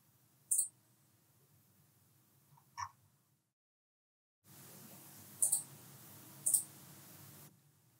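A computer mouse gives a few sharp, close clicks, spaced seconds apart and set against quiet room noise.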